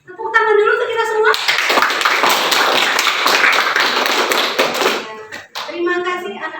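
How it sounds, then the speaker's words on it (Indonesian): A classroom of students breaks into loud, dense applause for a few seconds, bracketed by a teacher's voice speaking just before and right after. "Tepuk tangan dulu untuk kita semua."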